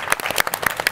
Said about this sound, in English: You just do a big round of applause for John, NBC Universal guys, right?